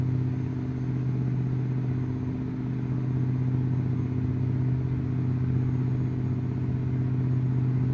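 A truck engine in American Truck Simulator, fitted with an Eaton 13-speed transmission, drones steadily with a deep, even rumble, loud and constant throughout with no talk.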